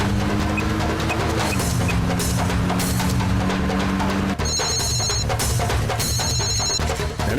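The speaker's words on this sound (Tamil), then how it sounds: "நினைச்சேன்டா ஃபோன் வேற பண்றாங்க." A telephone rings with an electronic ringtone for an incoming call, a loud repeating warble pattern over a busy, steady background bed with no talk.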